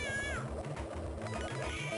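A cat enemy in Donkey Kong Country 2 on the Game Boy Advance lets out a short meow over busy game music and sound effects, moderately loud and brief.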